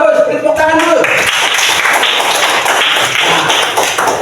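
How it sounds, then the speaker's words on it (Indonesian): Students in a classroom clap their hands together in a quick burst of close, loud, rhythmic claps praising a classmate's question, with a voice heard briefly at the start. "Tepuk tangan dulu."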